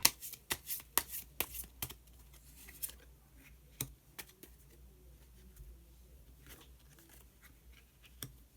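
Tarot cards shuffled and drawn by hand, a series of quick crisp riffles and snaps near the start, then sparser soft card flicks in a quiet room.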